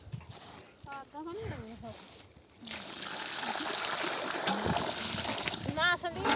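Irrigation water flowing into a farm field in Punjab, a continuous rushing and splashing that grows louder midway, with someone talking over it.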